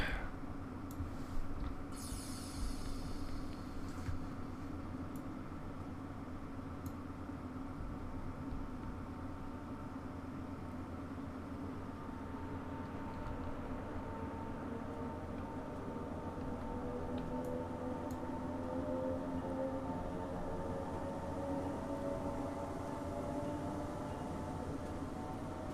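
A Northern Class 319 electric train in Train Simulator 2015, running from Manchester to Liverpool, gives a steady, even rumble and hum throughout, with a few faint high clicks near the start and no talk.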